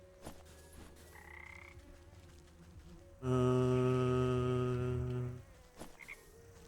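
One long, loud, buzzing frog croak from the game Wytchwood lasts about two seconds over quiet background ambience, with faint footstep-like taps before and after.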